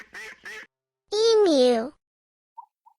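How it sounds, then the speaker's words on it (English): A duckling gives a couple of short quacks followed by a longer, wavering quack, then falls quiet except for two tiny faint peeps near the end. "Duckling."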